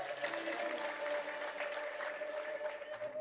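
A church congregation claps for the Lord in a loud, continuous wash of applause with no breaks. A steady sustained tone runs beneath it.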